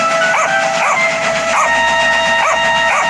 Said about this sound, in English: But then he heard a bark